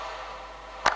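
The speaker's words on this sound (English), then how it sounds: "this clap loop, which sounds like this." A recorded clap loop sample with room air: a steady airy hiss carries a single sharp, bright clap near the end, close and alone.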